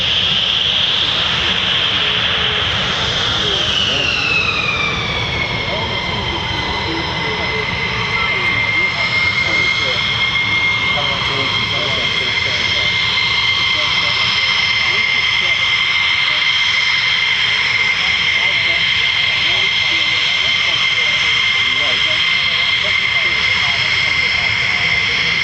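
F-15 and F-35 fighter jets roar through unrestricted take-offs and quick climbs at RAF Lakenheath. The engines make a loud, sustained thunder with a whining tone that bends downward early on, then holds steady for the rest of the stretch.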